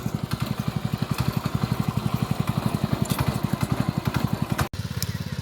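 Ploughing a field in light drizzle, a tractor engine thuds out a rapid, regular beat close by, broken by a brief cut near the end before the same chugging resumes.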